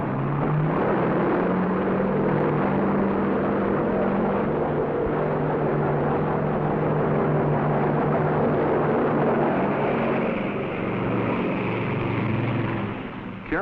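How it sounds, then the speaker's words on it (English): Loud, continuous propeller engine roar of an S-2F Tracker anti-submarine aircraft on an aircraft carrier deck, a heavy droning rumble that shifts slightly near the end as the plane launches. "An S-2F tracker is launched."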